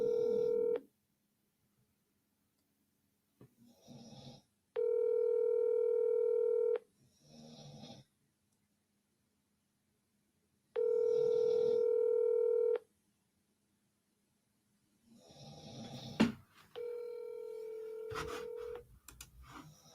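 A telephone call is placed, with repeated long electronic ringback tones separated by silences and brief muffled voices in between, the tones steady and moderately loud.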